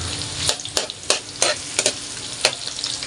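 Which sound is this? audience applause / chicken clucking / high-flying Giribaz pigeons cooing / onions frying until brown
onions frying until brown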